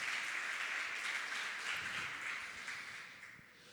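A church congregation applauds at a service, a broad, moderately loud clapping that holds steady and then thins and fades toward the end.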